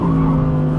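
Audi R8 GT with ceramic brakes powering hard out of a tight right-hand corner, its engine a loud, steady, strained drone heard close up for under a second.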